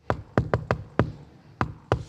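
Seven crisp knocks on a door tap out the shave-and-a-haircut, two-bits rhythm, five quick raps, a pause, then two spaced ones, loud and close in a music video's opening scene.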